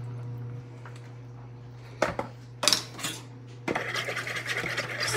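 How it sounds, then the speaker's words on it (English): A spoon scrapes and clinks around a bowl as ingredients are stirred together for a flour dough, in short scraping bursts and then a steadier rasping passage over a low steady hum. "Stir that all in."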